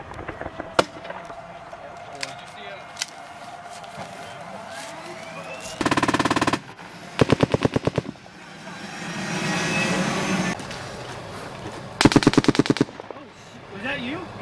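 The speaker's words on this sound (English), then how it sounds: "Somebody shooting that way." Bursts of automatic gunfire crack out repeatedly during a US Marines operation clearing an insurgent stronghold, loud rapid volleys separated by pauses, with a steady engine drone and distant shots underneath.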